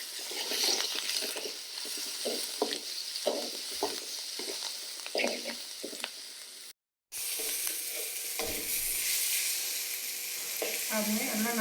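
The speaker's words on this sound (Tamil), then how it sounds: "அது எல்லாம் நல்லா வதங்கிடுச்சு" Pirandai (adamant creeper) sautéing in hot oil in a pan, a close crackling sizzle broken by a brief silence, with spoon scrapes and stirring clinks.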